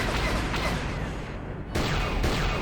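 Laser blaster fire in the Star Wars: Knights of the Old Republic video game, a dense, loud barrage of overlapping shots and booms that dips briefly near the middle, then resumes.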